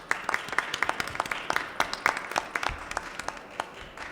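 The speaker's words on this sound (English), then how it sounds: "Let's give everyone a round of applause" Thin applause from a small audience after a cannabis cultivation industry talk, a handful of distinct, separate claps pattering unevenly for a few seconds, fairly faint.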